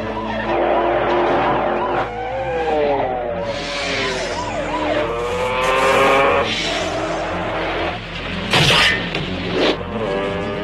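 Cars racing in a movie chase, with engines revving and rising, tires skidding and squealing, and sharp impacts near the end, all loud and close, mixed with siren-like tones.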